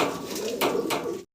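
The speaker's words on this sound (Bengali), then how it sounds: "এক জোড়া চমৎকার কবুতর দেখাচ্ছি আপনাদেরকে।" Pigeons at a fancy pigeon farm coo in a close, soft, rolling burble, with two brief bursts of wing or body movement over it before a sudden cut to silence.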